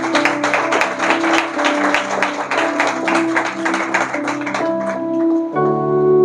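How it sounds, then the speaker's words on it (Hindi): A church audience claps in a loud, rhythmic burst with musical tones sustained underneath, the clapping thinning out as the music carries on alone near the end. "तो सब अब एक बार जोरों तालियां बजाएंगे।"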